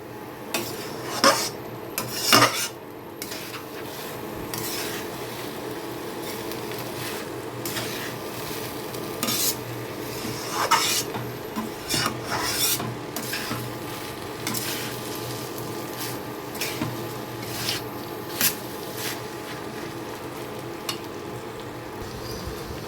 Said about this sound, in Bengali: চালটা আমি পুরো অ্যাড করে দিয়েছি বন্ধুরা এখন আমি এই চালটাকে এই মশলার সাথে একটু ভেজে নেব